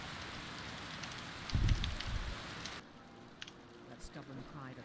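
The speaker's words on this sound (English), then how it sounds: "Let's get rid of this rain for right now." Steady rain falls in Skyrim as a soft, continuous hiss of drops, with a brief low thump partway through, then cuts off and leaves faint ambience.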